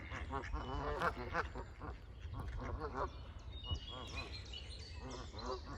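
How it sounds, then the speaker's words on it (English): Waterfowl call in a close, honking and quacking chatter that overlaps throughout, with some higher calls later, fairly faint outdoors. "Hello, geese."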